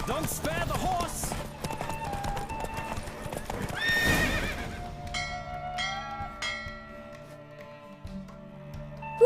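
Rapid horse hooves clip-clop with a whinny during a horse race in the video game The Witcher 3: Wild Hunt, over game-style music and chiming bells, then the galloping fades.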